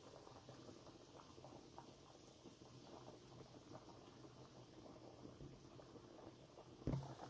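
Pasta noodles boiling in a pot of water, a steady close bubbling and gurgling that holds evenly throughout, with one brief knock near the end.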